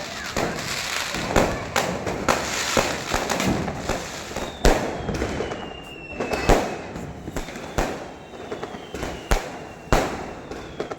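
Diwali firecrackers bursting outside a family home, repeated sharp bangs and cracks at irregular intervals, some near and loud, others distant, with a faint whistling rocket trail, a steady background crackle, and a voice in the background.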